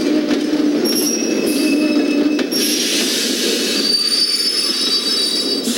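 A train pulls in with loud, sustained screeching of wheels on rails over a constant rumbling roar, heard up close with no talking.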